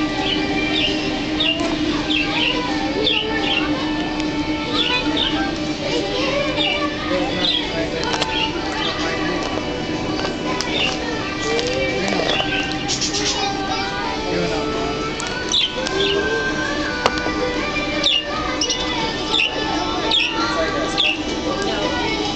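A budgerigar chirps and squawks in a pet store, with quick, scattered tweets over a busy background of people talking nearby.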